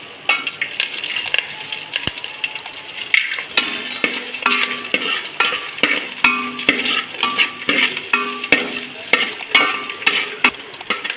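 Dried chillies, curry leaves and coconut pieces frying with mustard seeds and fennel, a bright crackling sizzle punctuated by frequent sharp metal clinks and scrapes of a spoon in the pan.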